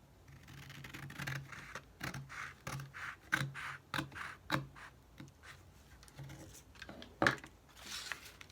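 Scissors snipping paper while trimming pages for a file folio journal, with a series of short crisp cuts and rustling paper handling at close range, quiet and irregular, no speech.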